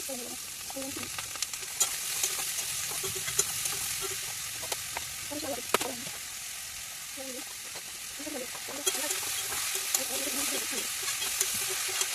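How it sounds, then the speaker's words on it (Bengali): Pointed gourd (potol) slices fry in a pan with a steady, loud sizzling hiss, broken by scattered pops and the clatter of stirring, while a voice talks briefly over it now and then. "তার আগে পটল ভাজি করবো, পটল ভাজটা বসিয়ে দিই।"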